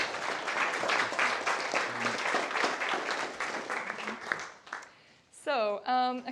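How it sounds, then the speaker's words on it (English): An audience claps for a speaker named Michael at a social media business talk. The dense clapping is blended with talking and dies away partway through, and then a voice speaks alone. "Give, please, a clap to Michael"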